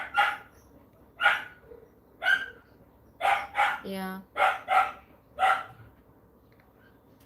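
A dog barks close by in a home, eight or so sharp barks spaced unevenly with a whine in the middle, while a person says a short word.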